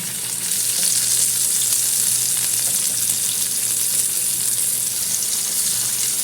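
A chicken burger patty, freshly flipped, fries in a pan with a steady, close, even sizzle and crackle that runs without a break and with no one talking.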